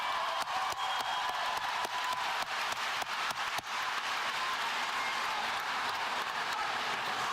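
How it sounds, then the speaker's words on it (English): Audience at a Loy Norrix high school graduation ceremony applauding, a dense, steady wash of clapping that fills the whole stretch with no gaps, fairly distant and even in loudness. "let's give this amazing class a big round of applause"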